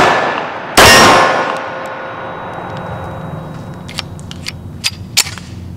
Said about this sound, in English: And you shot a 1911 before, Kip, right?